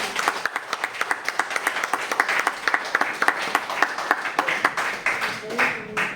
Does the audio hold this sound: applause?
yes